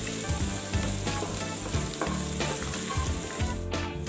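Ginger, garlic and green chilli fry steadily in a pan for a banana stem and black pepper dish, giving a loud, continuous sizzle with occasional stirring scrapes and no voices.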